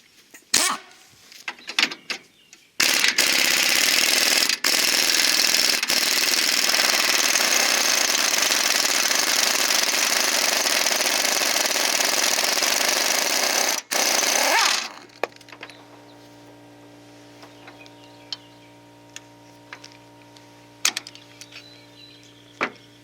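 A trailer jack bolt is hammered loose by an impact wrench in one long, loud rattling burst that cuts off abruptly, then the socket flies off. Scattered clanks come before it and a quieter hum with light clicks follows.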